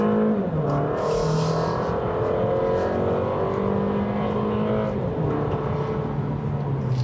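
A 2020 Toyota Camry AWD sedan pulling hard in a push-pull test, its engine drone steady and loud from inside the cabin as the pitch rises and falls with the shifts.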